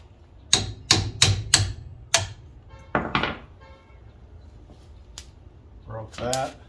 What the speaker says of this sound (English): So I'm gonna hammer that out and then reattach the slide hammer